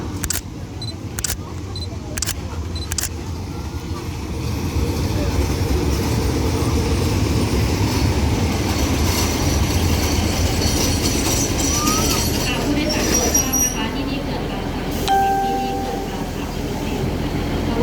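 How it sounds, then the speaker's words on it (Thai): Local train number 440 on the Bua Yai–Kaeng Khoi line pulls into the Pa Sak Jolasid Dam halt platform, a loud sustained rumble of rolling wagons with clicking wheels and brief squeals, after a few sharp clicks at the start. "รถที่จอดเทียบอยู่ที่ชานชาลาเป็นรถท้องถิ่นขบวนที่40รับส่งผู้โดยสาร"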